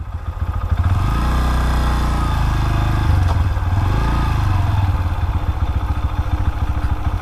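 A Bajaj Pulsar N125 motorcycle with an ISG auto start-stop system runs steadily and close by, its engine note dipping and rising as it restarts and settles into an even, throbbing idle, with no one talking.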